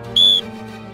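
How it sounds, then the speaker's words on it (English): A single sharp, loud whistle blast of about a quarter second signals the start of a sprint drill during outdoor speed training. "One whistle."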